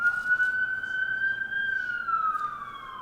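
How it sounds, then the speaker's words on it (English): Police sirens wail on Manhattan streets, heard through an open apartment window as a steady, fairly loud tone that slowly sweeps and then drops in pitch, with traffic hum underneath. "Sorry about the sirens in the background."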